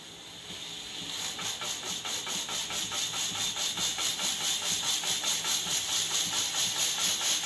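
A pressure cooker cooking bottle gourd curry with gongura leaves releases a second loud, close blast of steam. The hiss pulses rapidly and rhythmically, a chuffing whistle that builds slightly and holds strong throughout.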